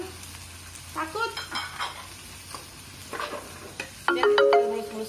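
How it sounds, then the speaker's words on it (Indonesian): Sliced tomatoes frying in a pan for sambal, stirred with a utensil: intermittent soft sizzles and scraping strokes, then a louder, steadier sizzle near the end, with no talking. "Ini kita aduk-aduk dulu tomatnya tanpa apapun ya. Sampai dia layu."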